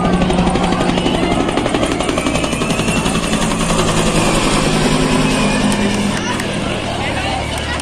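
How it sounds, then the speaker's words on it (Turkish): A helicopter's steady rotor thrum and engine whine fills the air, loud and continuous, with crowd chatter underneath. "Bir helikopter geliyor."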